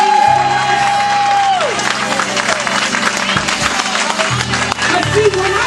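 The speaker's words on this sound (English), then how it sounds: "can we give him a hand clap of praise like we really need it?" A church congregation claps and cheers in praise, a loud sustained wash of applause with voices calling out over it, while a preacher keeps speaking on top of the noise.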